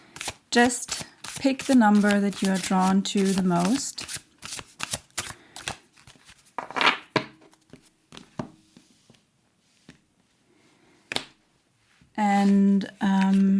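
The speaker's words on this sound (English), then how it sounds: "you can do that now while I am shuffling the cards" Rapid crisp riffling of tarot cards being shuffled in bursts, with a person speaking in between and over the shuffling.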